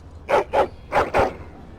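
Four loud, close dog barks from the video game Dragon Age Origins, in two evenly spaced pairs, with no talk over them.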